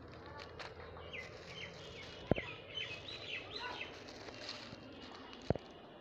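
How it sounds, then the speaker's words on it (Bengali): Small birds chirping and singing in a tree garden, faint, scattered calls over a quiet outdoor background, with a couple of sharp knocks or footsteps nearby. "আমি এখানে পাখিদের সুন্দর শব্দ শুনতে পাচ্ছি।"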